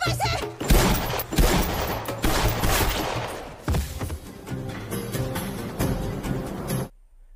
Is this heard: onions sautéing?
no